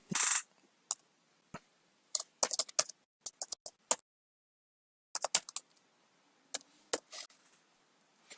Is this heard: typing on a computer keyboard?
yes